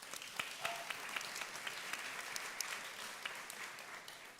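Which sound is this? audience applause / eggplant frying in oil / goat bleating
audience applause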